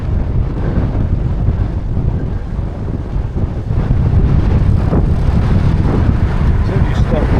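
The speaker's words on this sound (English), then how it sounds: "Relentless, this wind." Strong, relentless wind roars steadily against the microphone during a bike ride, a loud continuous low buffeting that swells slightly in the second half, with a voice speaking over it.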